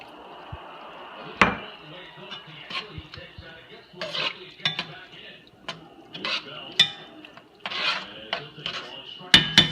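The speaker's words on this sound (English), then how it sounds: "Stir it, and then we're gonna let that cook for about 15 minutes." Meat seasoned with pepper and garlic powder and a little water is stirred in a pot, giving irregular scraping and clinking of a utensil against the pan, with quiet gaps and a voice talking faintly.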